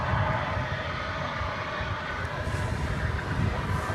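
An American Airlines jet on its arrival from Miami at DFW Airport makes a steady, broad engine roar at moderate distance, with no voices.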